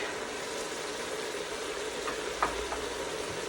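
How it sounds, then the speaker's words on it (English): A pot of goat meat stew simmering and cooking down, a soft continuous sizzle and bubbling hiss with one brief clink near the end, fairly quiet and without voices. "I'm just gonna let this simmer for a little while until it fully sautés and cooks down."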